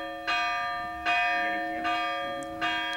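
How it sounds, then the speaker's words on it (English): A monastery bell rings four times at a slow, steady pace to announce prayers, each strike ringing out with a long humming decay that overlaps the next. "All the prayers are announced by someone ringing a bell."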